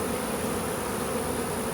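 Honeybees swarm and buzz over an open hive frame of brood and eggs while a summer split is being made, a dense, steady drone with no pause and no voices.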